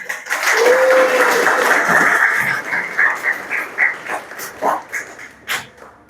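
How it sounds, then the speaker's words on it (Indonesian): A group in an Islamic school setting claps for a student praised for Quran reading, a brief burst of applause that thins into scattered, uneven claps. "Boleh kasih tepuk tangan?"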